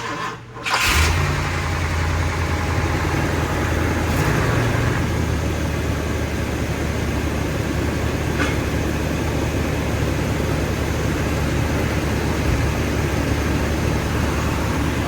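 A 1963 Lincoln Continental engine cranks and catches after a fuel pump repair, settling into a loud, steady idle that runs close and unbroken to the end.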